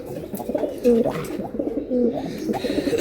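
Pigeons coo softly and near at hand at a pigeon seller's stall, a few throaty rolling calls repeating in a loose rhythm over light background noise.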